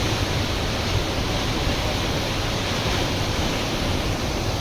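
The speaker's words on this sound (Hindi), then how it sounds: "इतनी तेजी से पानी गिर रहा है।" Surya Kund waterfall near Gangotri pours down with a loud, steady roar, a dense wash of rushing water that holds constant and fills the whole scene.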